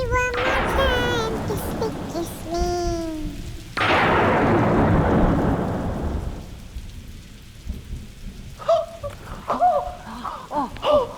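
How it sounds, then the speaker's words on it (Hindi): Thunderstorm with a loud thunder crack and heavy rain pouring on surfaces, the downpour washing steadily and fading, while people talk and sing over it. "जब तक ये तूफान थम नहीं जाता"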